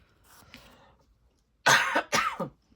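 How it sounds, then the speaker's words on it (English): Two sharp, close coughs in quick succession after a moment of quiet, with faint murmuring before them. "just a little cough there"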